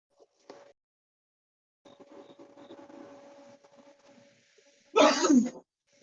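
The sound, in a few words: sneeze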